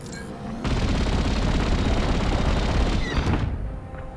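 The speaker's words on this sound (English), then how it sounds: "Wow, I'm loving this cannon." Rapid laser cannon fire from a starfighter in the Star Wars Squadrons video game, a dense continuous volley of loud blasts lasting several seconds before cutting off, with no talking over it.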